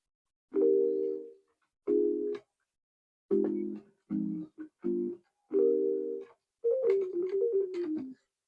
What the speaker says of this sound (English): This is a sine synth right here